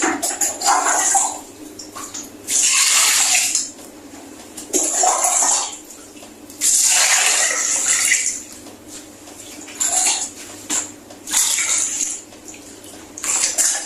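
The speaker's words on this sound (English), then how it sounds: "I'm going to dip it inside the water to wash it out" A wig being dipped and swished in a basin of hot water to wash out conditioner, with repeated bursts of splashing and sloshing between quieter pauses, up close and without talk.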